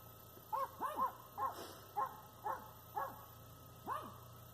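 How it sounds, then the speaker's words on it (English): Dog barking repeatedly as people walk by, about eight sharp yips and barks spaced roughly half a second apart, moderately distant over a quiet background hum. "that's a dog, some people walking by."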